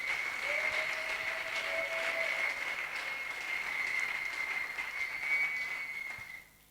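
A church congregation applauds at an investiture ceremony, with steady sustained clapping and a few high tones ringing over it, then fading out at the end.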